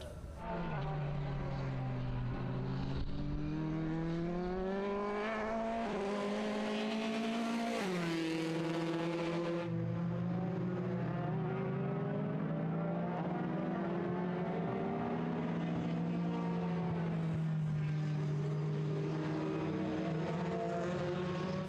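A single-seater race car one step below Formula 1 screams past at high speed, its engine note loud and sustained, pitch rising and falling through gear changes with a sharp upshift midway.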